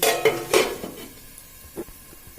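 A metal lid goes onto a cooking pot while dudh potol posto, pointed gourd in milk with poppy seed, is being made: two close, ringing clanks near the start, then a softer clatter that fades into quiet kitchen noise.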